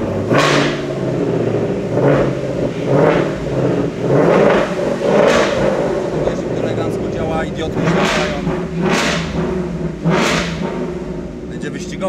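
A car engine idles loudly and revs up repeatedly, rising and falling in roughly regular surges close by while people talk over it.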